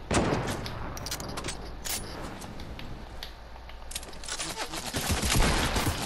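Rapid bursts of gunfire in Fortnite, including shotgun blasts, crackle continuously at moderate loudness, with a dense flurry of shots near the end.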